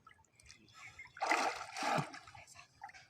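Cold water splashes and sloshes close by while someone is catching fish, two brief surging bursts with softer trickling around them.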